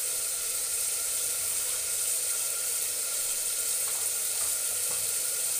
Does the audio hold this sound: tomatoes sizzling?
yes